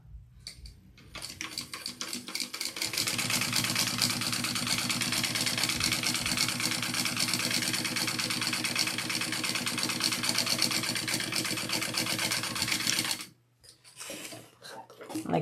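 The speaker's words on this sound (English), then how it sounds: "I'm going to top stitch this down the trim." A sewing machine runs loud and steady for about twelve seconds, top stitching trim onto a crossbody bag, then stops and gives a brief shorter burst.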